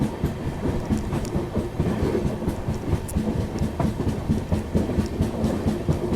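The Kashi Vishwanath Express passenger train rolls along between Delhi and Lucknow, a loud steady rumble with rhythmic wheel clatter on the rails heard from inside a 3AC coach, with no talking.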